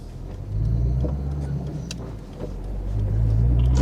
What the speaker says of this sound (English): The engine noise, it intrudes a bit less than a BX.